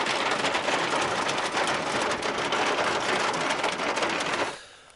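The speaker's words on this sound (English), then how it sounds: "now we got some thunder rolling in, and it just started hailing. It's about pea-sized hail," Pea-sized hail falling during a thunderstorm, a dense, steady hiss of countless small pellets pattering on a surface, loud and continuous before fading out at the end.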